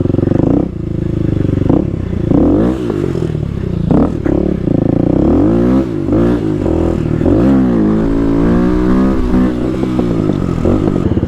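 A Kawasaki KLX250SF supermoto fitted with a 351 big bore kit, ridden hard with a loud, close engine. The revs rise and fall through repeated accelerations and shifts, with steady wind roar and no talk.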